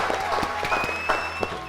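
Studio audience applause, a short burst of clapping with distinct hand claps standing out over a dense crowd wash, fairly close and steady, with a voice faintly underneath.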